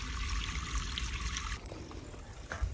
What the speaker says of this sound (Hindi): ये पानी आ रहा